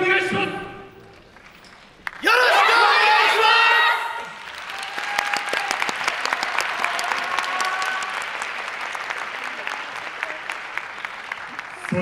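Crowd applause and cheering at an outdoor YOSAKOI dance performance in Fukushima: a voice speaks, a loud shout rings out, then sustained clapping and cheers from the audience continue steadily.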